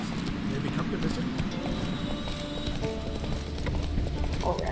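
Horse hooves clip-clopping at a steady trot in The Witcher 3, a continuous rhythmic clatter over low game ambience, with talk over it.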